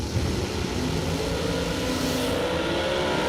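Drag race cars roar down the strip at a Superbucks Showdown event, a steady, loud, dense engine drone that stays constant throughout with no pauses.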